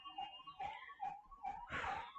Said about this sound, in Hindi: अब एम्बुलेंस,